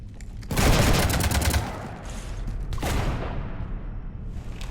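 Gunfire rakes a ship in Mass Effect 3: a loud, dense burst of rapid shots, a brief lull, then a second volley, with rumbling impacts trailing off.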